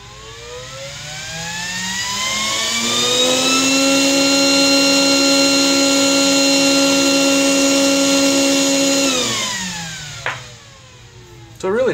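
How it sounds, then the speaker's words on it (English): The cooling fan of an APC XS 1300 UPS, running a battery load test, whines up from low to a loud, steady, tonal pitch, holds there for several seconds, then winds down, followed by a brief click. "That fan spooled all the way up, speed leveled out."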